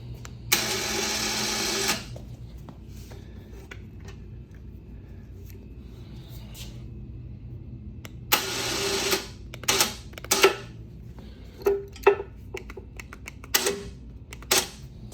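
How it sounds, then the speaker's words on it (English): A Harbor Freight 3500 lb winch on a CFMOTO CForce 600 ATV runs by wireless remote, giving a loud mechanical whir for under two seconds and then several shorter bursts and clicks, with quiet between them. "Now we push this to the on position, and we have the activation of the winch."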